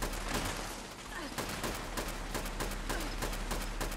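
Automated turrets fire rapid, continuous bursts of gunfire in the Fallout 76 Wastelanders game, producing a loud, dense rattle that runs through the whole stretch.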